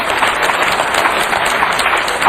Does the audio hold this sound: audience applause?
yes